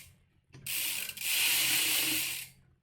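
A wrench working on bicycle wheel spokes, with a close ratcheting clicking burst lasting about two seconds after a quiet start, alone without talk.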